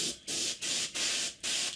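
Four short bursts of airbrush spray from a scale-model airbrush with its trigger unlocked, each a bright steady hiss cut by brief gaps, close and fairly quiet with no talk.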